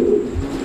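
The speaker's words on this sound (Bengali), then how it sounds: "এক জোড়া বোম্বাই কবুতর" A Bombay pigeon gives a short, close, soft throaty coo.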